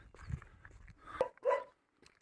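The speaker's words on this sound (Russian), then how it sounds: "Собака встречает." A dog tied on a leash beside a roadside kennel near a path in the Komi countryside gives a few sharp barks, close by, with short gaps of quiet between them.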